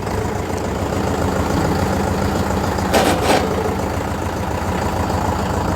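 Mahindra Yuvo Tech+ tractor engine reversing in low gear, a steady continuous mid-to-low engine drone with a brief louder rattle or clank around the midpoint, close and alone.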